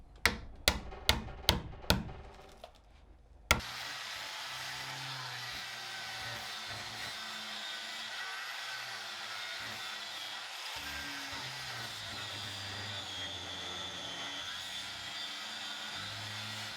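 A few sharp knocks open, then a power tool fitted with a worn cutting blade whines steadily as it bites into rotten planks of a 1940 wooden seaplane tender, a continuous loud buzz with slight pitch dips under load.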